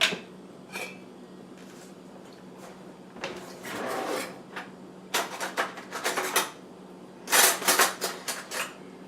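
A large spoon stirs sour cream into venison stroganoff over low heat, with several scraping, clanking strokes against the pot coming in bursts between quieter stretches.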